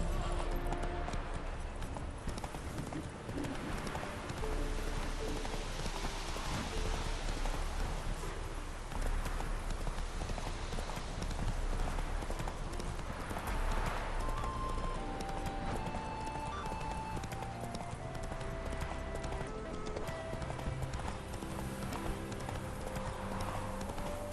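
A horse gallops in The Witcher 3 video game, its hooves keeping a steady, rapid clip-clop rhythm throughout. Game ambience and music play underneath, and there is no talk.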